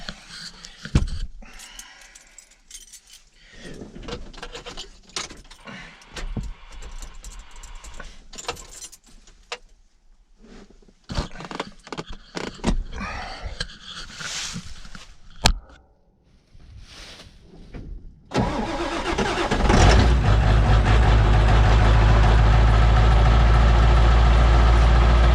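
A Ford 7.3 diesel truck: a few seconds of clattering and handling noise, then the engine cranks and catches into a loud, steady low idle that continues to the end.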